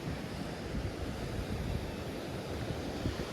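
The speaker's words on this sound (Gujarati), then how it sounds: "અહીંયા પવન એટલો આવે ને તમને અવાજ છે ને મારો અવાજ ક્લિયર તમને આવી છે નહીં" Strong wind sweeps across a seashore on the way to an island, a steady, loud broadband roar with surf and gusts buffeting the microphone throughout, no voices.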